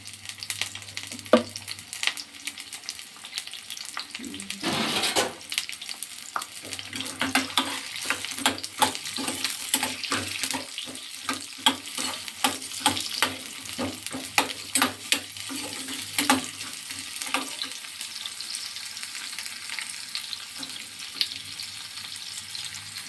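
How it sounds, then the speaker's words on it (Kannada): Chopped onions frying in a pan for a mushroom gravy, a steady bright sizzle with crackling pops and occasional stirring scrapes, close and continuous with no talk. "ಆನಿಯನ್ನ ಫ್ರೈ ಮಾಡ್ಕೋಬೇಕು ಆನಿಯನ್ ಫ್ರೈ ಮಾಡ್ಕೋಬೇಕು"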